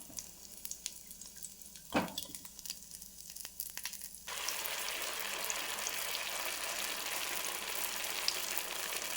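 Vegetable spring rolls fry in hot oil. Quiet rustling and a soft knock come first, then a loud, steady, close sizzle starts about halfway through and continues without talk.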